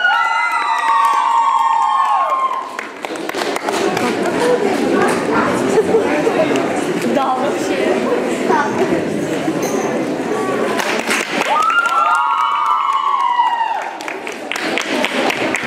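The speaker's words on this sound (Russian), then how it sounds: "Провожаем бурными, бурными овациями." A crowd at an art award ceremony applauds and cheers a prize winner with loud, sustained clapping and shouts. A presenter speaks over it at the start and near the end.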